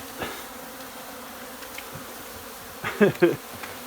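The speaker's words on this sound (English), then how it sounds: "and a bunch of angry bees" Faint bee buzzing drifts through a quiet background, swelling into a louder cluster of close, angry buzzes near the end.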